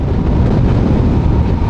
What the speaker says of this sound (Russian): Какие-то песчаные бури повсюду, сильный ветер.